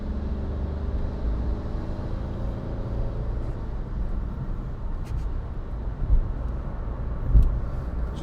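A 2016 Skoda Fabia 1.4 TDI Monte Carlo diesel engine runs at steady cruise, a continuous low buzzy drone with road rumble, brief knocks around six and seven seconds.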